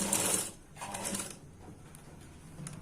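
A sewing machine stitches a blouse collar with a quarter-inch seam, giving a quiet, close mechanical whir in short bursts with small clicks between them.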